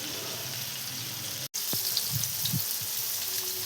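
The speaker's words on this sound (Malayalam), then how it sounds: "ഇനി ഇത് ഒരു സൈഡ് ഫ്രൈ ആയി വരുമ്പോൾ നമുക്ക് ഇടയ്ക്കൊന്ന് തിരിച്ചു മറിച്ചിട്ട് കൊടുത്തിട്ട് ഫ്രൈ ചെയ്തെടുക്കാം" Chicken popcorn pieces frying in hot oil give a steady, close sizzle with light pops and a short gap partway through.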